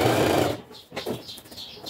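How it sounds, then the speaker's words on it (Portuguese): A home sewing machine stitching a cushion cover seam with a 1 cm presser foot, a loud steady whir that stops abruptly, followed by quieter handling and brief mechanical clicks. "passa a costura dos dois lados com 1 centímetro, pezinho de 1 centímetro"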